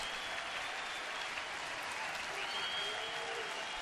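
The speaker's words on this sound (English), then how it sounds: "Crowd making noise." A baseball stadium crowd at a Seattle at Cleveland game gives off a steady, distant roar of cheering and clapping, even and unbroken throughout.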